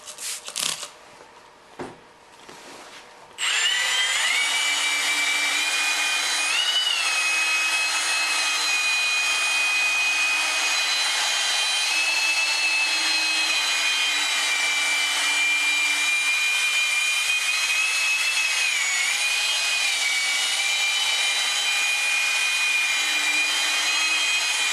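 A yellowed car headlight is wet-sanded by hand with 2000 grit sandpaper, giving a continuous close, loud, even rubbing hiss that starts after a few seconds of quiet handling noises and runs without a break.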